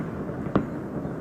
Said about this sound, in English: that's the closest I'll get to fireworks in my bedroom this 4th of July.